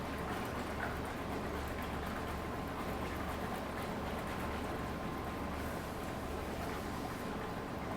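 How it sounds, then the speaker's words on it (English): Parts get a water rinse during cleaning at an engineering facility, a steady broad hiss of spraying, splashing water running continuously at moderate level, with no voices. "a water rinse"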